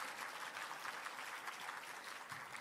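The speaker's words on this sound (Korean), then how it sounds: "김인원 교수님께 다시 한번 큰 박수 부탁드립니다" An audience at a leadership summit applauds after a keynote speech, a steady crowd of clapping hands at moderate volume, continuous and unbroken for the whole stretch.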